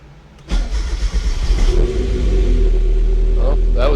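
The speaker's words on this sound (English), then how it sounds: "let's see if this car roars to life for the first time in probably about 2" A car engine that has sat unused for about two years cranks briefly, catches, and fires up, then settles into a loud, steady rumbling idle close by.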